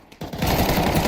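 Rapid automatic gunfire from a Counter-Strike match, a dense loud burst of overlapping shots starting abruptly and continuing steadily without pause.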